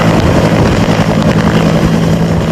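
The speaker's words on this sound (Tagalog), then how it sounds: "Kanina, isang UV helicopter ang dumating para maghatid ng supplies." UH-1 military helicopter arriving with supplies at a conflict-area town, a loud, steady rotor and engine drone with a low thudding pulse running throughout, no voices.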